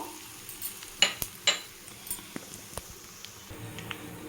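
Curry leaves and asafoetida tempering frying in hot oil, a faint sizzle under a few sharp spatters and spoon taps against the pan, sparse and close.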